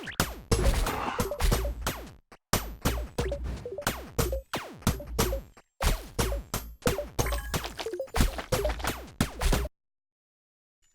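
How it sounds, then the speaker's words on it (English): A dense barrage of overlapping mining strikes from dozens of mining rods working across 49 land blocks in the video game Forager, loud and relentless with chaotic rapid clicks and thuds, briefly dropping out twice before cutting to silence. "listen to what happens when we have mining rods covering the entire 49 block span"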